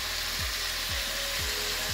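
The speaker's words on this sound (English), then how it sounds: "hear the sound of that sizzling" Steady, bright sizzling of bacon frying in a hot pan, a constant crackling hiss with a faint periodic scraping underneath.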